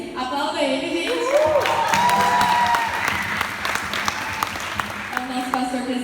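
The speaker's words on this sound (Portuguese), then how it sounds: "Aplauda ele, gente" A church youth gathering applauds the pastor, the clapping steady under an amplified voice and a rising musical tone, the crowd sound sustained for several seconds.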